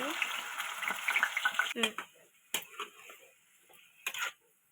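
Pieces frying in hot oil in a kadai make a close, fizzing sizzle at first, then settle into quieter bubbling broken by a few sharp clinks.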